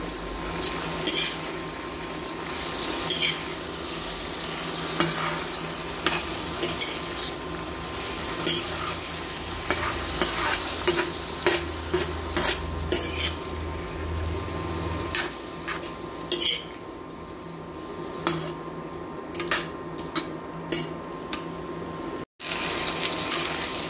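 Meat frying in a pan while being stirred, its own released liquid bubbling; a continuous wet sizzle with repeated scraping and clinking strokes of the spoon, fairly quiet and close.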